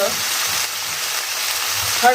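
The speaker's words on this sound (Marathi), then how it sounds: "पहिल्यांदा फोडणी झाल्यावर बटाटा घातला मिरच्या हिंग" Potato pieces fry in a tempering of oil with green chillies and asafoetida, a steady loud sizzle that runs without a break, with faint speech beneath it.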